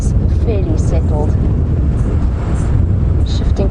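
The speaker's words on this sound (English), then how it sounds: "You can see how windy it is, that dust cloud's flying." Strong wind on a safari game drive at Djuma Game Reserve buffets the microphone in loud, constant rumbling gusts, with faint voices and scattered higher chirps mixed in.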